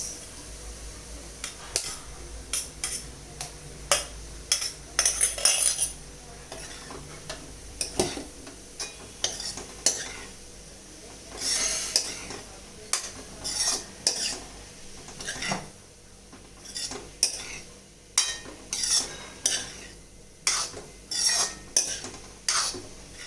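Rice is stirred in a pan with a spoon, producing repeated sharp clinks and scrapes against the metal in an irregular rhythm, close and fairly quiet, with a soft background hum.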